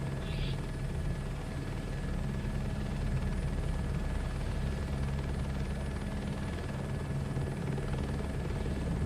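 A helicopter's rotor and engine in the Microsoft Flight Sim 2024 game drone steadily and evenly from start to finish, a constant whirring hum at moderate level with no talk.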